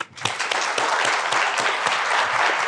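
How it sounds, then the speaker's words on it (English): An audience welcomes two guests, Marcus Collins and Bloomin' Brands CEO David Deno, at a college leadership dialogue with a burst of sustained applause, dense and steady throughout, with no talking over it. "Let's please give a round of applause and warm welcome to both Marcus Collins and Dave Deno"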